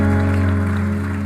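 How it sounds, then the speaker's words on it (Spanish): Church congregation applauding during a Spanish-language evangelical service, a steady wash of clapping running beneath loud sustained keyboard or organ chords that dominate throughout. "Dale un aplauso fuerte al Señor."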